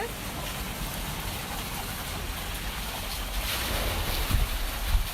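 A 19th-century mill water wheel spins up as pumped water pours through a chute above it, giving a steady, close rush of flowing and splashing water that swells slightly toward the end.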